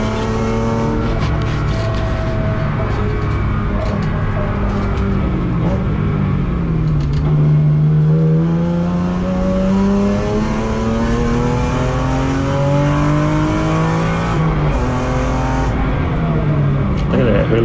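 BMW race car on a qualifying lap at Hampton Downs, its engine loud and close from inside, revving up and down through gear changes with rising and falling pitch, while a driver talks over it.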